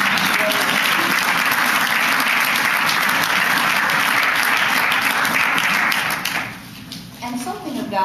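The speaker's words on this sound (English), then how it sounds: "You should clap." Audience at a Women In History celebration on Staten Island breaks into loud, sustained applause, dense and continuous, before it dies away near the end.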